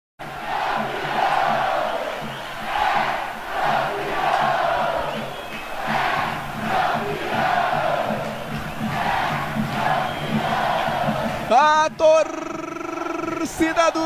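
Paulista (Galo) supporters chant together at a football match in Jundiaí, a loud, sustained crowd roar with rhythmic swells under a commentator's voice, ending in a few sharp whistles and shouts.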